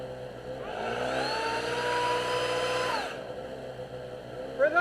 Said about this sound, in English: So we're going to get the generator started